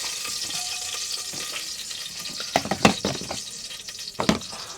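Cloves frying in a pan with cardamom for pulao, cooked inside a truck: a steady, bright sizzle with scattered crackles and a few sharp clinks and stirring knocks near the end, with no voices.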